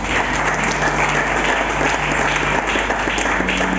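A church congregation applauds during a French-language worship service, with a continuous dense wash of clapping and a faint tonal hum beneath it.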